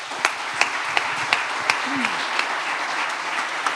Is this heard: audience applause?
yes